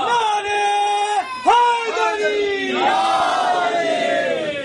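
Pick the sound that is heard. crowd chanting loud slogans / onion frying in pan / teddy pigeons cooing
crowd chanting loud slogans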